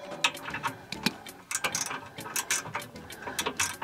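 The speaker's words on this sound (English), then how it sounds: "You could use a socket wrench." Socket wrench ratcheting on Jeep Wrangler JK trailer hitch bolts, with a quick run of sharp, close clicks broken into uneven bursts and short pauses, no talking.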